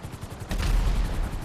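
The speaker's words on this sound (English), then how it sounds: "There goes the next explosion." An explosion in GTA 5 during a car park challenge: a low, heavy boom bursts in halfway through over earlier rapid popping, loud and rumbling to the end.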